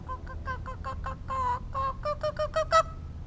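A woman imitates the call of a pileated woodpecker outdoors at Hanna Park, producing a rising run of about a dozen sharp, evenly spaced hooting notes that grow louder and quicker toward the end.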